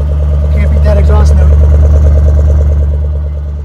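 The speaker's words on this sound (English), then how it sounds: "Can't beat that exhaust" Brand-new 2019 Range Rover Sport SVR with all carbon-fiber hood, its exhaust holding a steady deep rumble close by, loud and continuous, with a brief rise in the middle before easing slightly at the end.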